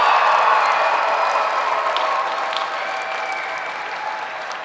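A crowd applauds student performers at a National School Choice Week celebration in Madison, with dense steady clapping that slowly fades over several seconds.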